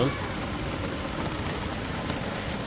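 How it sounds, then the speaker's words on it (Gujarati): Steady rain falling, a continuous even hiss of drops with no breaks. "તો વરસાદ ચાલે છે અત્યારે"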